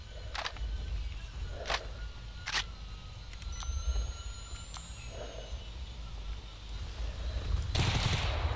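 Heavy-recoil gunfire in S.T.A.L.K.E.R. Anomaly: several sharp, spaced single shots over a low rumbling background, fairly quiet overall, with a louder burst near the end.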